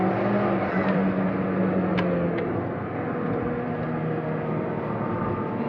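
A Fiat Uno Turbo i.e. MK1 pulls hard on a road with a steady, sustained engine drone and rising turbo surge, recorded from inside the car with no talk.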